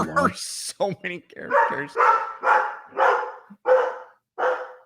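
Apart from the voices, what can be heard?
dog barking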